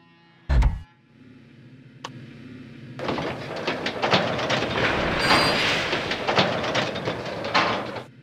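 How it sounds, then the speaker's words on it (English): A locomotive in the Lionel Train Town Deluxe game uncouples and rolls away from a rotary dumper: a loud clank, then a sustained rumbling roll with rhythmic rail clicks and metallic rattles that holds steady to the end. "Uncouple the locomotive and drive it safely away from the dumper."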